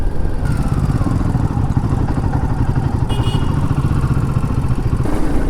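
A Royal Enfield Himalayan 450 motorcycle engine hums steadily at high revs in sixth gear around 4500-5000 RPM, a loud constant buzzing drone with vibration and wind, no talk.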